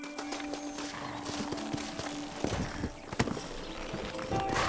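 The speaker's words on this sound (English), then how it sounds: "Horses are over here." Horse hooves clip-clop at a steady walking rhythm in the Western video game Red Dead Redemption, fairly close and moderately loud, with faint mechanical clinks mixed in and no talking.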